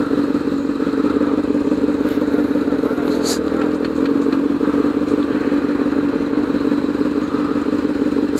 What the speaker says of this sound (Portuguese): a moto dá um kick, ela levanta a frente de uma vez